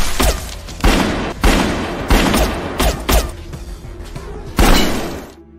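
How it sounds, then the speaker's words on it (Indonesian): Gunfire erupts in a film shootout scene: repeated sharp, loud bangs in irregular bursts with shattering debris and crashing impacts, close and dense, with no talking over it. "Sampai akhirnya baku tembak pun terjadi."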